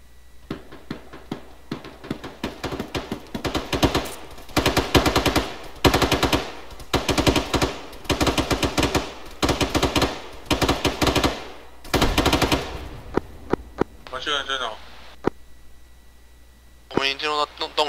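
Machine-gun fire in the video game ArmA during a cave assault comes as long rapid bursts, loud and close, repeating in a steady rhythm, followed by a few sharper single shots near the end.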